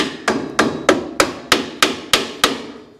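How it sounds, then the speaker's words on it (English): Eight sharp metallic hammer blows strike a seized brake wheel cylinder on a 1968 Camaro at a steady rhythm, each ringing briefly before the next, close and loud with no talking. "Like hammer it a few times"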